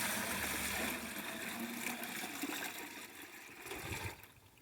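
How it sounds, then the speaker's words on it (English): Water pours from a 5-gallon bucket into a garden grow bag outdoors in winter, a steady splashing gush that runs for several seconds and then tapers off. "In the winter time, I just, like I mentioned before, just water with a 5-gallon bucket."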